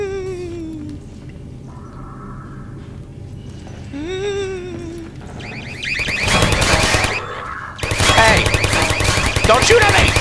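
Rapid bursts of automatic gunfire from sentry turrets in Half-Life 2, loud and dense from about six seconds onward, preceded by whirring, beeping turret tones and a voice.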